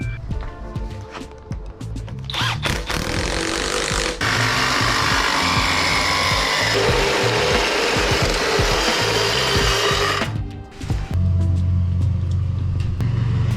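An exhaust pipe on a King Ranch truck with a 12-valve engine is cut with a power tool, a loud continuous rasping grind lasting several seconds between quieter shop noise.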